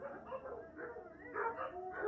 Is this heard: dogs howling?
yes